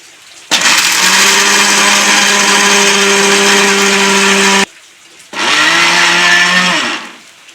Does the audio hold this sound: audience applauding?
no